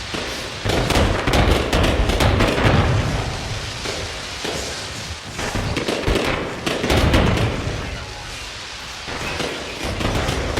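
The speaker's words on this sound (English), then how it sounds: "got me fireworks." In the No Man's Sky video game, a dense barrage of fireworks crackles and pops, with rapid sharp bursts layered over a continuous hissing roar for about ten seconds and no one talking.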